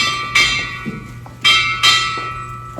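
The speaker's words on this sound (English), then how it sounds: "Sound 4 bells." A ship's bell struck four times in quick, ringing blows, loud and close, each strike left to ring out briefly before the next.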